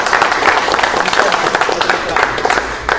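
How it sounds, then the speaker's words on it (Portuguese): Crowd applause at a Café com Axé gathering, dense continuous clapping at steady loudness across the whole stretch, with voices mixed in. "Uma salva de palmas, né"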